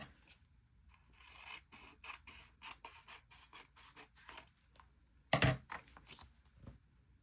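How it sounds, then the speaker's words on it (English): Scissors snip paper trimmed for a gluebook, a close run of short crisp cuts and slides, then one louder rasping cut near the end, with no voices. "So let's just trim it up a little bit."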